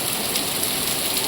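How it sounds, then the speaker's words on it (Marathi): Steady, even rain falls on surfaces nearby, a dense continuous patter with no voices. "चालू झाला मस्त पाऊस."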